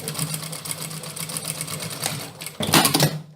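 A sewing machine runs steadily, stitching a 1 cm hem on a dress with a fast, even mechanical whir, then a louder burst of clatter near the end.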